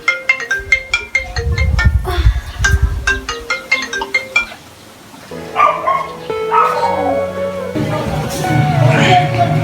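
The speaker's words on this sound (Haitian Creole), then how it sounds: "Le téléphone a sonné" A phone ringtone plays in a repeating melodic pattern, loud and close, with dogs barking and yipping underneath; after a few seconds it gives way to a different tonal sound with a voice talking.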